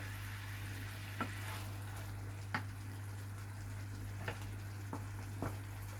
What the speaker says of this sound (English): that butter's really going for it. That butter's really cooking through nicely